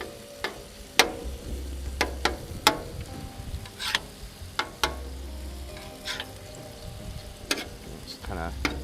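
Ground beef with seasoning sizzles steadily on a cooking surface, a continuous frying hiss broken by sharp spatula scrapes and clicks at irregular intervals, close and fairly quiet.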